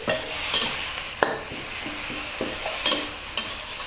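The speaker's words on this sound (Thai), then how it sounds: "คั่วให้ผัดให้หมูสับมีความสุก ก่อนเนาะ แต่ไม่ต้องให้สุกมากนะ" Minced pork stir-fried in a hot pan, with a steady close sizzle and scattered scrapes and knocks of a spatula against the pan; no voices.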